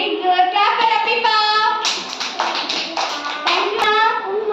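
Pre-primary children clap together in a classroom, a close, bright patter of many small hands mixed with their chanting and chattering voices.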